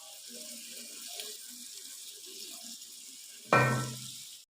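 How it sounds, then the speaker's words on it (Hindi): Water poured into a pan of browned chicken for nehari, a sudden loud splash and hissing burst after a stretch of quiet sizzling and faint background sounds. "अब मैं पानी ऐड कर रही हूँ।"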